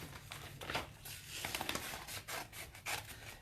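Scissors snip and rustle close up as a sunflower transfer is cut out, quiet irregular cuts and paper crinkles with short pauses between them.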